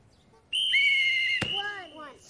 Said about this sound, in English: when we whistle, you start dribbling and we will start counting